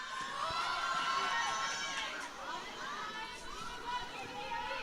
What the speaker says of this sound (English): There's lots of cheering from their benches